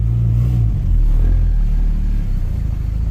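A Toyota MR2 engine idles and runs loud with a deep, steady low rumble that fills the cabin, throbbing continuously from close by with no talk over it.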